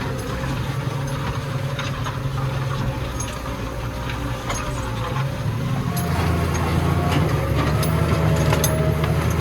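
A tractor engine working hard while pulling a plough through a wet spring field, a steady heavy low drone that rises and thickens as the revs come up partway through, with no talk over it.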